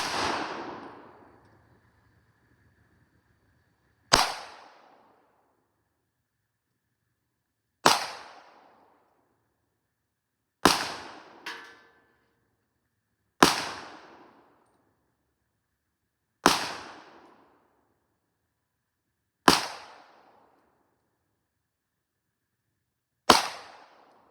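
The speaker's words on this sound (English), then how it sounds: "when you fire all 10 of them, Dan's on the Glock Model 31 357 SIG with 124 grain flat point ammo" A stock Glock 31 Gen 3 pistol firing .357 SIG 124-grain flat-point rounds: about eight loud, sharp shots, each followed by a short decaying echo and spaced roughly three seconds apart, with one smaller pop between two of them.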